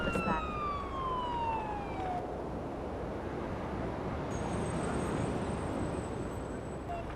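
An ambulance siren wails from a paramedic simulator video game, its steady falling tone sounding over a constant road rumble of the moving vehicle.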